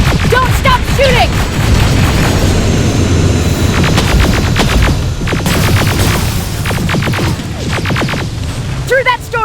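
Dense, loud rifle and machine-gun fire in the Terminator: Resistance video game, with rapid overlapping bursts and booms throughout and voices shouting amid the shooting.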